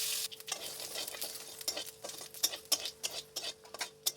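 Bay leaf, dried chilli and panch phoron hitting hot oil for a pea dal tempering, a soft crackling sizzle broken by sharp ticking pops and light stirring clicks, close and fairly quiet.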